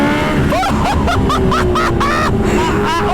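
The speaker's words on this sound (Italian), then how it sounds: "sentite la turbina!" A Kawasaki H2R motorcycle under way, its engine roaring loud and steady while a turbocharger whine rises and falls in short whistling sweeps over the drone, with faint voices in the mix.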